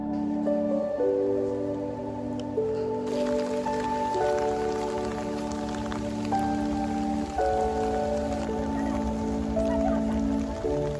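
Heavy rain pours steadily in the misty Avatar Mountains of China, a continuous loud hiss of drops that thickens after a few seconds, overlaid by sustained droning tones.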